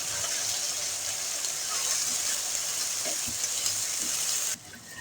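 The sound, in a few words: fresh peas stirred into sizzling fried masala for pulao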